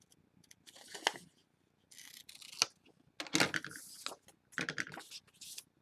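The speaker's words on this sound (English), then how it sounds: "So I'm going to cut the top with my scissors." Scissors snip through paper while building silhouettes are cut out for a collage, a series of short crisp cuts in uneven bursts with quiet pauses between, close and alone.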